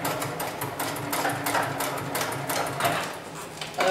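A heavy-duty webbing sewing machine stitches through thick strap material, producing a rapid mechanical rattle that pulses in short bursts with slight variations in pace, fairly close and without speech.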